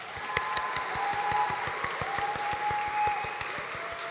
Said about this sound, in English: Let's give our VET Creative Arts graduates another big round of applause